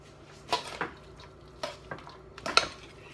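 Swabian potato salad being stirred with an oil substitute in a bowl, giving a few scattered clinks and soft scraping strokes of a utensil against the dish, close and fairly quiet, with no one talking.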